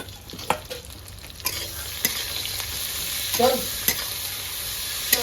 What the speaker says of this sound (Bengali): এবার বেগুনটা দিয়ে দেবো বেগুনটা হালকা করে ভেজে নেবো